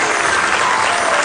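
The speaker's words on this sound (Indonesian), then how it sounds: "Tepuk tangan." A studio audience at an Indonesian comedy talk show claps loudly and steadily, a dense wash of applause filling the whole moment without a break.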